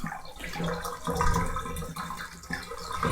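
Dirty, manure-laden wash water from raw wool pours steadily down a drain, a continuous close gurgling rush with no voices.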